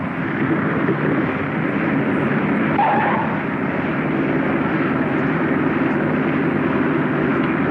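A propeller airplane's engine drones steadily at idle after touching down, power cut back with full flap, a continuous close, even hum throughout.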